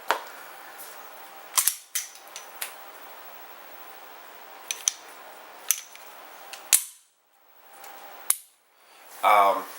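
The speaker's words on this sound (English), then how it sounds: "The magazine is out, and chamber is now cleared." A handgun is unloaded with the magazine removed and the chamber cleared: a series of sharp metallic clicks and snaps, close and distinct, spaced irregularly over quiet background, ending with a heavier rattling slide movement.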